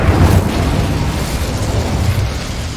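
Incendio fire spell from Hogwarts Legacy erupting in a continuous roaring blast, a dense, loud, rumbling whoosh that holds steady for a few seconds before easing slightly.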